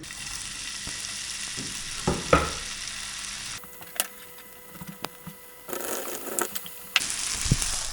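Fries frying in olive oil in a hot pan, a continuous sizzle and crackle that drops and returns as the pan is handled, with a few sharp knocks and clicks, no talking.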